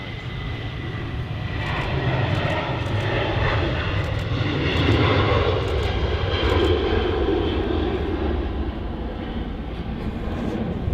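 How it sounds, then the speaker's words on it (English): A red-nosed Norwegian Boeing airliner at Manchester Airport roars with a broad, steady jet engine rumble that swells and holds throughout, moderately distant and without talk. "Norwegian, the red nose Boeing"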